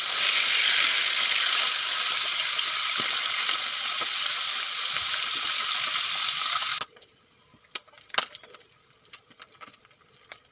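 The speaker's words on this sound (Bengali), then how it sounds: "তেল গরম হয়ে গেছে এখন মাছগুলো ভেজে নেবো" Loud, steady sizzling of tilapia fish frying in hot oil in a kadai for several seconds, then it drops away to quiet scattered clinks and small splashes.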